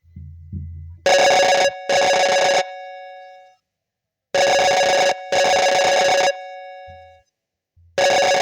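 A telephone rings in repeated double bursts, two rings, a pause, then two more, with a bright electronic tone, loud and close.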